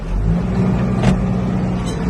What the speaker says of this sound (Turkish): Arkadaki ekipmanımız beşli patlatmalı dip kazan çekiyoruz şu anda.